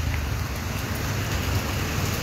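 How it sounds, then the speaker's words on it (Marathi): Steady rain falls heavily and continuously outdoors, a close, loud hiss with no talking. "पाऊस झाला आहे, छत्री गायब झाली आमची"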